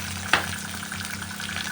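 Chopped onion drops into hot oil with dried chilli, bay leaf, cumin and lightly fried potato, a sharp burst of sizzle followed by a steady quiet frying hiss.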